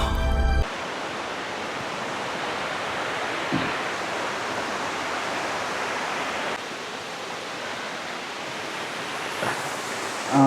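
Water rushes at the Uyilatty waterfalls near Kotagiri in the Ooty hills, a close, steady, broadband roar that stays constant and loud with no voices over it.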